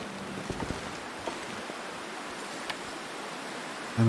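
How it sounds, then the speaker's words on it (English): Howling wind in the survival game The Long Dark on Interloper difficulty, a steady broadband rushing that stays even and moderately loud, with a few faint clicks and no voices. "That's a bit windy."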